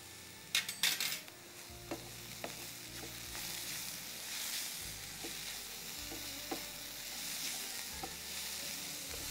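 Soya granules tossed with masala sauté in a pan, a soft continuous sizzle with a few clinks of a spoon at the start and occasional scraping as the mix is stirred, fairly quiet and close.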